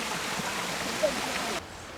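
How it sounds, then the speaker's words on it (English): A small waterfall in a park spills steadily in a broad, even rush of water that holds close and constant, then drops away near the end. "Right next to a small waterfall."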